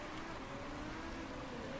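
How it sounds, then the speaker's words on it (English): Rain in the Motorsport Manager racing game, a quiet steady hiss of falling drops with a faint low engine-like drone beneath, continuous and even. "And that rain is still coming."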